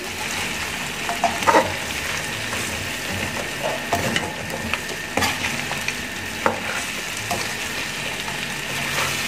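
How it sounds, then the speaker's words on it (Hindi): Masala spices frying in oil over a low flame for mutton chops, a steady dense sizzle with occasional scraping and stirring clatters from a utensil, close and continuous. "बस इसको हमने थोड़ा सा इस तरह भून लेना है ऑयल में।"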